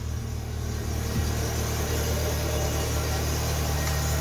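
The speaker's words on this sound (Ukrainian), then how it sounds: "Як ви бачите, автомобіль завівся." A Geely MK car engine idles steadily just after starting during cylinder head repair work, a constant low hum with a broadband whir, close and unchanging, with no talk over it.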